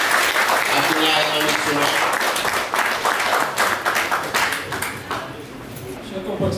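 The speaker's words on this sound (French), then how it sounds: "veuillez nous acclamer le secrétaire fédéral" Audience applauding the federal secretary at a political gathering: loud sustained clapping from a crowd, with an announcer's voice speaking over it, fading slightly toward the end.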